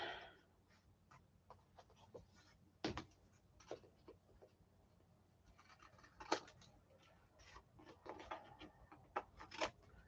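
Scissors cutting piano paper for pockets, a series of quiet crisp snips and rustles spaced irregularly, close but faint in a quiet room.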